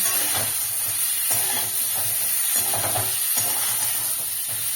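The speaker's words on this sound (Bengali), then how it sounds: "ফুলকপিগুলো এবার লাল লাল করে ভেজে নেব।" Lightly salted cauliflower florets fry in a pan over a high gas flame, giving a steady, close sizzling hiss broken by regular scraping stirs, with no talking.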